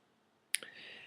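A sharp mouse click on a login button, quick and close, followed by a faint second tick and a soft hiss of room noise.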